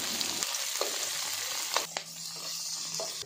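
Dried fish such as squid and salted dalagang bukid frying in hot cooking oil, a dense, steady crackling sizzle up close with a couple of brief utensil knocks.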